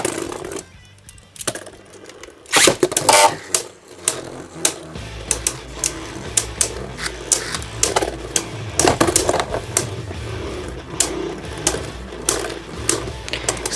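Hand-spun Beyblade Burst Cho-Z tops Fafnir and Valkyrie clash in a stadium, giving a rapid, continuous metallic whirring and rattling with frequent sharp clicks of impact, close and fairly loud, with no talking.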